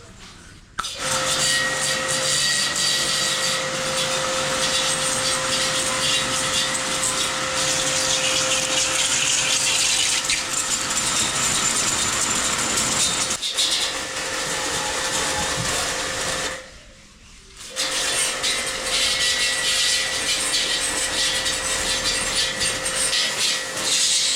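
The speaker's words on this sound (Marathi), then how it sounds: "आता पाण्याच्या प्रेशरने आपण धुवून घेऊया" A loud, steady hiss of a pressure washer's water jet runs continuously, with a tonal motor hum underneath and a brief pause before it resumes.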